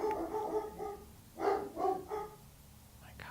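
Dogs barking indoors: several loud, close barks in a short burst, with a pause and a quieter yip near the end.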